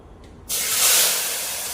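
After a brief quiet moment, a loud sizzle bursts out as cluster beans (guar) hit hot oil with popped mustard seeds, then settles into a steady crackling hiss.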